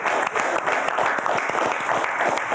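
A crowd gives lively, continuous applause at a Border Guards Day concert evening in Gomel, with distinct individual claps standing out against a dense background of clapping.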